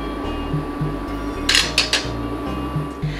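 Spoon clinking and scraping against a pot while stirring a kombucha tea concoction as it cooks, a run of irregular light knocks with a brief burst of sharper clatter in the middle, alone without talk.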